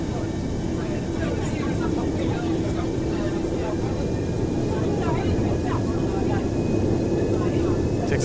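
Boeing 737-200 jet engines spooling up for taxi in a flight simulator: a loud, steady roaring drone with a constant low whine throughout, under intermittent talk.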